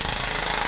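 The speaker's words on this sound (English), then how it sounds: "So we're gonna planish this. This is a planishing hammer." A pneumatic planishing hammer stretches sheet metal into a bowl shape in a workshop, giving a rapid, steady burst of close, even hammering.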